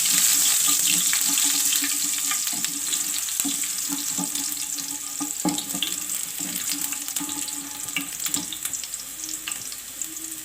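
Chopped ginger and garlic sizzle and fry in hot oil in a pan, a steady close hiss with small crackles and occasional stirring clinks throughout.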